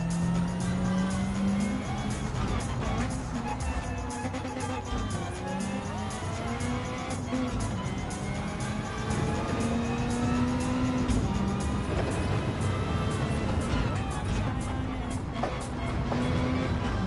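Audi GR3 race car in a PS4 racing game, its engine droning steadily throughout with rising and falling pitch through gear changes, tire squeals and a constant loud roar.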